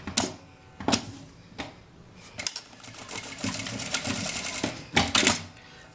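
Sewing machine stitching a seam through fabric scraps, a fast close mechanical whirr in short bursts separated by brief pauses, with no talking.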